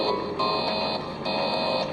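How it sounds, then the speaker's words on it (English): Fire alarm blaring loud and close in a burning hallway, a steady harsh electronic buzz pulsing in regular bursts about every three quarters of a second. "The loud sound of the fire alarm sounding startles you"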